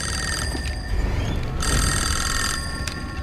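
A telephone rings in a movie scene from Dreamcatcher (2003), with bursts of bright electronic trilling broken by short gaps, over a rumbling low background.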